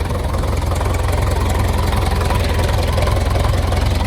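A tractor engine idles steadily just after starting on a small farm in winter, a continuous low rumble with an even chugging throb, close and loud throughout.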